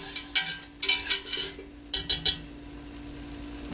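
Onions for cream of broccoli soup cook in a pot. A faint, soft sizzle runs beneath a string of sharp clinks and scrapes from a utensil stirring against the metal, which come in clusters and then fade out.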